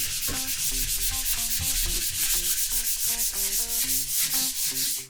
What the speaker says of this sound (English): all you gotta do really is sand the edges